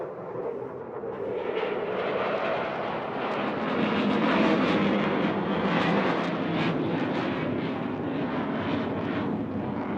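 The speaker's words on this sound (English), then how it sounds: "He's going to point it skyward, got clearance all the way up. Reheat coming on again." A jet fighter pulls straight up into a vertical climb with afterburner lit at the Bournemouth Air Festival, a loud sustained roar with crackling texture that swells in the middle, heard from the ground.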